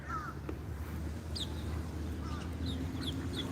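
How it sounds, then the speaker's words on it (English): American Peking ducks make scattered short calls and quacks over a steady low outdoor hum, with several brief bird calls spread across the background and no one speaking. "these are the American Peking duck"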